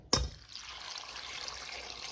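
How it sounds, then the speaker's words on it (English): Cold water poured into a steaming bowl of boiled peanuts with salt and sugar: a sharp splash at the start, then a steady, fairly quiet trickle and pour that continues to the end. "And now I'm going to add some cold water"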